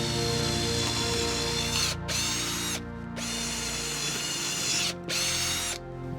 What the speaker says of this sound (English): For these 2 holes I have to drill big enough hole for this one.